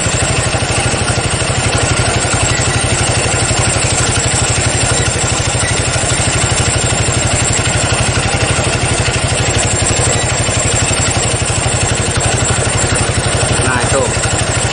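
A Honda Tiger motorcycle engine idles loud and close with a steady mechanical clatter, holding an even, continuous note throughout.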